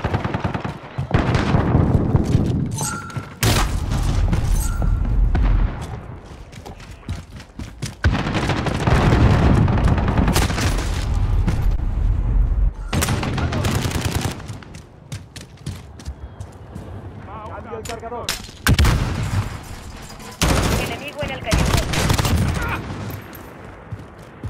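Repeated gunfire bursts in the Call of Duty Modern Warfare Shoot House multiplayer map: dense, loud automatic volleys and booms in several clusters, separated by brief quieter gaps, with game voice callouts mixed in.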